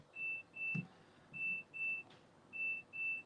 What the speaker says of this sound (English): my timer's going for the potatoes